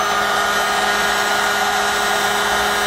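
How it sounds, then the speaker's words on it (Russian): An industrial heat gun blowing hot air to melt paraffin wax into shoes for waterproofing, a steady, even whirring hiss of the fan and heater running continuously, close and alone. "Разогреваем феном. В данном случае строительный фен."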